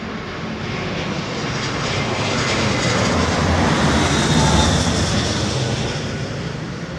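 An airliner departing Heathrow Airport roars steadily overhead, its loud broadband engine rumble swelling toward the middle and easing slightly as it passes, with no voices over it.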